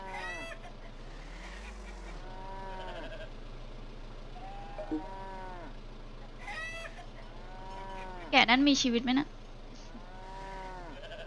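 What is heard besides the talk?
sheep bleating in the video game Trader Life Simulator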